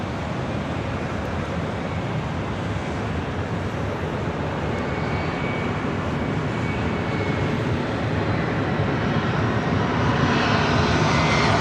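Airliner jet engines roar in a steady, loud, continuous rumble at LAX, with heavy jets such as an Airbus A330neo arriving from the north; the roar swells slightly near the end, with no talking.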